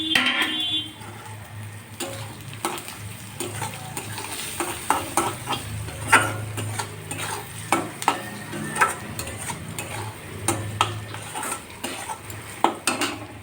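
Chopped green chilies and turmeric fry in a pan with a faint sizzle, while a metal spoon scrapes and clinks repeatedly against the pan in an irregular stirring rhythm.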